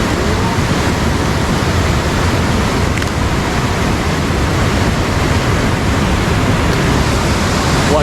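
High water rushing after rain, where tilapia are netted, makes a loud, steady roar that fills the whole stretch without a break. No voices stand out over it.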